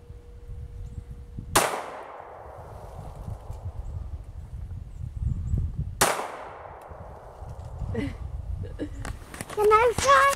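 Two sharp gunshots from a .22 Crickett rifle and a Beretta Pico ring out a few seconds apart, each with a long decaying tail, followed by voices and light clattering.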